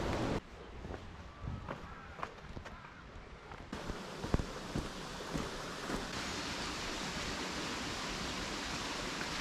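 Small waterfalls along a river in the Peak District give a steady, soft broadband rush of falling water, with a few faint knocks and shifts partway through.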